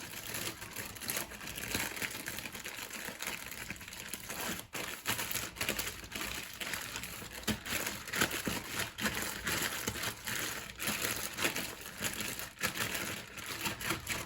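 Close, crackling crinkles of a plastic freezer bag of marinating chicken being squeezed, continuous and busy with small sharp pops throughout, fairly quiet.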